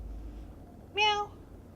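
A single short meow-like call with a clear harmonic stack, lasting about a quarter second over a quiet room. Around it, a person playfully imitates meowing while talking to a house cat, so the sound may be a human voice copying the cat.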